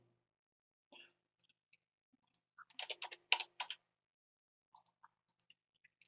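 Light typing on a computer keyboard while entering a word in a design program: scattered soft key clicks, with a short quick cluster in the middle and sparse taps after, quiet and close.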